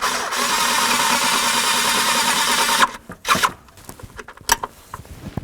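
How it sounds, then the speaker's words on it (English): A power tool runs continuously while removing a bracket bolt from the back of the manifold on a 2007-2017 Ford Expedition, then stops, followed by clicks and metallic tool handling. "Now we're just going to take out this bolt that holds this bracket on the back of the manifold."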